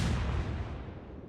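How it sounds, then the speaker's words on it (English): Heavy naval gunfire rumbles in a World War II naval video game, a battleship's shells striking the thickly armored side of the battleship North Carolina; a single sustained low boom and rumble, loud and close, decaying over about a second with no talk. "Firing again, getting a hit in the highly armored side of North Carolina"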